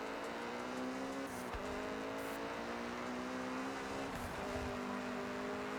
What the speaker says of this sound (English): this just feels like a more refined Civic.